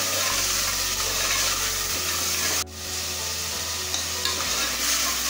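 Mutton pieces and cauliflower for curry sautéing in a pan, giving a steady close broadband sizzle with a brief dip partway through, no talking.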